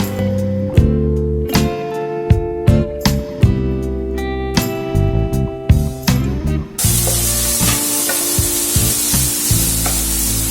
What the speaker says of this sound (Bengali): এবার আমি এর মধ্যে যে আমার কুচানো পেঁয়াজগুলো সেগুলো দিয়ে দেব